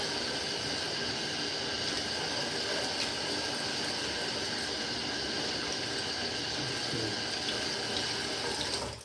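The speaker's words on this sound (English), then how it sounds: "So now I'm gonna add a little bit of water." Water runs steadily from a tap for several seconds, a broad splashing hiss that stops abruptly at the end; no one speaks.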